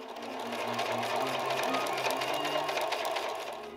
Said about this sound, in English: sewing the bottom edges together.